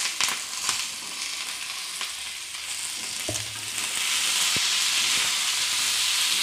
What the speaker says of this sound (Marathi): छान भाजून घेतोय सगळं जिन्नस